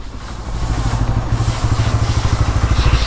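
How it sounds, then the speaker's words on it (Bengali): A motorcycle ridden in and pulling up, its engine chugging with a steady low throb that grows a little louder close by. "সাদিক ভাই চলে আসছে চালাইয়া।"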